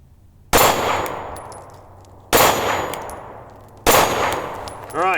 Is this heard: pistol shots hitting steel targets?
yes